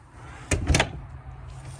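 Entry door of a new 2023 Grand Design Transcend Xplor 315BH travel trailer swinging on its friction hinge, giving two close, brief broadband knocks or creaks about a quarter second apart over a quiet background hum.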